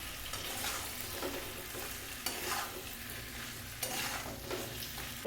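Chicken pieces for chili chicken fry and sizzle in a hot pan, seasoned with salt and soy sauce. A steady broadband hiss continues throughout, broken by a few louder stirring scrapes, and no one speaks.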